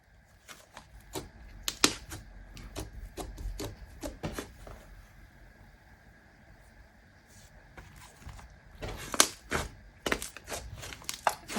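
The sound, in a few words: slime being stretched and popping softly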